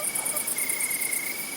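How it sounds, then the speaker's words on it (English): Crickets chirp steadily at sunset in a high, pulsing chorus, accompanied by a continuous thin whine. The sound is even and moderately loud throughout, and no one speaks. "when the sun starts to set, the crickets begin to sing."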